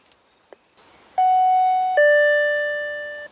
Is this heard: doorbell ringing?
yes